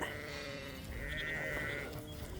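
Ewes in a flock bleat during a CIDR mating trial on a sheep farm, a wavering call followed by a second, longer bleat, moderately close over low outdoor background noise.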